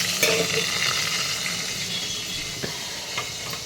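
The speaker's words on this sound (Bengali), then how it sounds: "বেগুনটা ঝটপট ভেজে নিই" Steady frying sizzle of eggplant slices with crackling oil throughout, a few sharper pops and stirring clicks on top, close and fairly loud, no voices.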